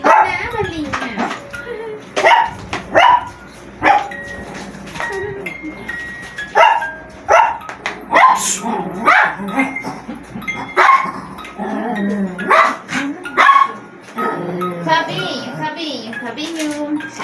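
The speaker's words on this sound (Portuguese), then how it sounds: "Esses cachorros estão muito felizes." Several excited dogs bark, yip and whimper close by in a home during Christmas fireplace decorating, in repeated short bursts mixed with people and children talking.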